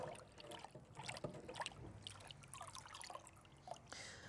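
Water trickles and drips while a greasy brick-dusted surface is rinsed in the Tudor kitchens at Hampton Court Palace, a faint, close, uneven splashing with no voices.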